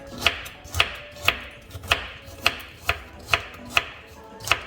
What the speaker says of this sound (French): on va découper tout ceci